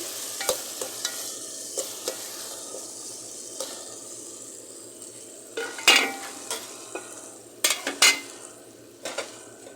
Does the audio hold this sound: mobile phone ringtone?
no